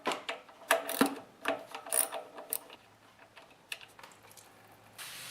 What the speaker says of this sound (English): you can drain the carburetor by removing this bolt here